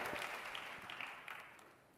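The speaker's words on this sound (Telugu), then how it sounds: "గట్టిగా చప్పట్లు కొట్టి దేవుని మహిమపరచండి" A church congregation clapping together, a soft, distant wash of applause that fades gradually toward the end.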